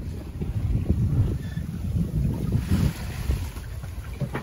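A sailboat makes its way offshore on a beam reach in a light swell. Steady wind rushes across the microphone over a low, churning wash of water against the hull, with no voices.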